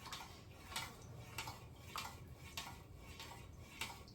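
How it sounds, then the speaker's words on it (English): Wax melt mixture stirred quickly in a container, heard as a steady run of sharp scraping and clinking strokes against the sides, repeating about every half second, close and fairly quiet. "I'm just putting it in there and stirring it up as fast as I can"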